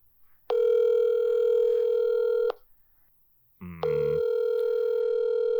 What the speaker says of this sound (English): Let me get this dude up on speakerphone.